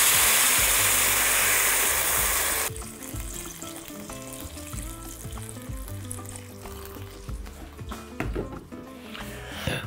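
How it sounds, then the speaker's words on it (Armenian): Boiled water, about two litres, goes into a pot of borscht over fried vegetables. A loud, steady pouring rush fills the first few seconds, then gives way to quieter sizzling and light clatter. "Ավելացնում եմ մոտ 2 լիտր ջուր։"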